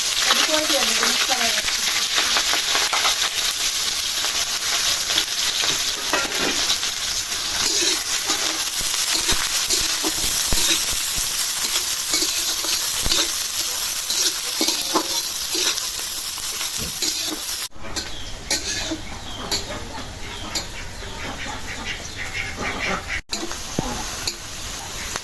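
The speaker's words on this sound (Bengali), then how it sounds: "পেঁয়াজ মরিচটা ভাজা হয়ে গেছে" Steady, loud sizzling of onions and green chillies frying in a pan, with occasional stirring scrapes throughout.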